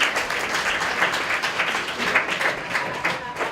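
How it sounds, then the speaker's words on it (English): A small audience at a social media meetup claps for the event's Wi-Fi sponsor, a steady patter of hand claps lasting a few seconds at moderate volume. "Let's give Shaw a big round of applause"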